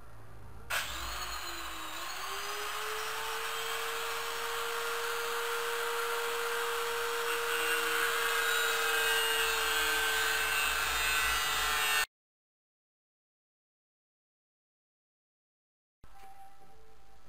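An angle grinder cuts metal during repairs to a Lifan 125 motorcycle, giving a loud, close, sustained whine for about eleven seconds that stops abruptly, then brief silence before a quieter sound resumes.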